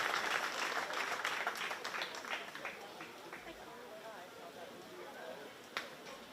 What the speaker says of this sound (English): I think we need to give Kevin Gosshorn a big round of applause for all his help over these many years.